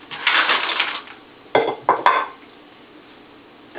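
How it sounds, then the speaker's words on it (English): Sushi set down on a plate: a soft rustling handling sound, then two or three sharp close clinks and taps of the plate against the counter, with near silence afterward; no voices. "After you've cut your sushi, you want to place it on a plate"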